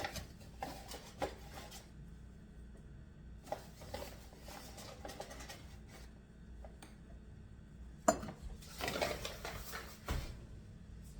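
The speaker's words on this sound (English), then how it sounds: "And we're going to stir this." Whole wheat flour being stirred into bread dough in a bowl for cheese bread, giving soft intermittent scraping and rubbing strokes with a few sharper utensil knocks, fairly close and quiet, with no talking.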